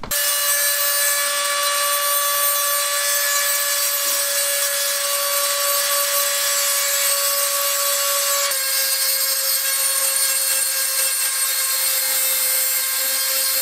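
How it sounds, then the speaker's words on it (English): A power tool cuts slots into a PC case, producing a loud, steady high-pitched whine and grinding that holds its pitch throughout and shifts slightly partway through. "So what I need to do is cut these two slots a little longer."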